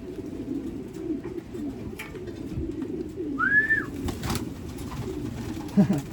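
A pigeon gives a soft cooing call over steady low rumbling background noise, with scattered faint knocks nearby.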